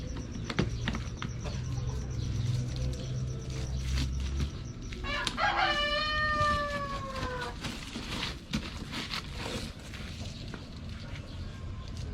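A Rhode Island rooster crows once, a loud rising and falling call, over a busy outdoor background of clattering, clucking and low rumble.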